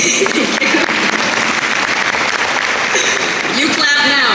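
Audience applause in a Hollywood comedy performance setting, a steady dense wash of clapping sustained for several seconds at close, loud level, with no voices over it.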